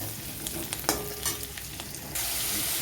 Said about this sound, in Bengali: কেটে রাখা পেঁয়াজ এবার আমি এটাকে একটু হালকাভাবে ভেজে নেব